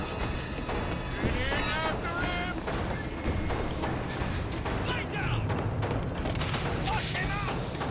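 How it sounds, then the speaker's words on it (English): Enemy gunfire in Bioshock Infinite's Finkton Docks on hard difficulty: dense, continuous volleys of shots and blasts, loud and close, with game voices and chatter mixed in throughout. "Who's shooting us?"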